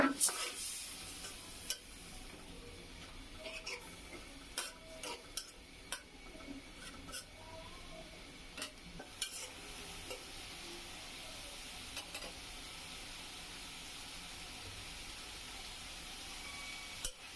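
Vegetables being sautéed in a pan for a dry-fish and potato curry give a faint, steady sizzle, broken by light clicks and taps of a utensil against the pan.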